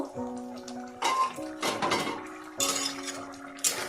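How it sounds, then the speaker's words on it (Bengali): Metal lid lifted off a pot of lobster leg curry simmered in milk, giving a few bright clanks and scrapes over a low kitchen hum, close and fairly loud. "আমি ঢাকনাটা খুলব"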